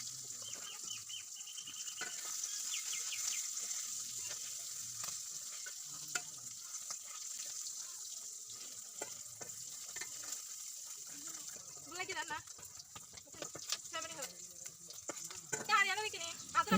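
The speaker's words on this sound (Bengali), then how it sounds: "এখন আমি একটা একটা করে সবগুলা ডিম দিয়ে দিব আর সাথে দিয়ে দিব অল্প একটু হলুদের গুঁড়া" Eggs dropped one by one into hot oil with a pinch of turmeric powder give a faint, steady sizzle with occasional stirring clinks. Bird chirps sound in the background.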